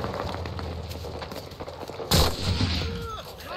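Gunfire in the World War II shooter Enlisted, fought around trenches: a sharp, loud shot rings out over a steady low rumble of battle, with fainter distant bangs around it.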